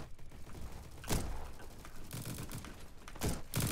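Gunshots in the shooter game Bad Business, a few sharp broadband bursts spaced irregularly, with a loud cluster near the start and more toward the end, over steady game background.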